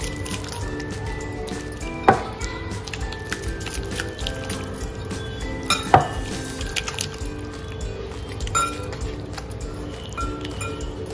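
Chicken pieces are mixed by hand in a marinade with lemon juice for Banjara kabab, producing soft wet squishing and occasional clinks against a bowl, close and quiet, with a few sharper knocks.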